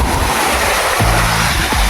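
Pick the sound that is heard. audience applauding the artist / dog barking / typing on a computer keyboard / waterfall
waterfall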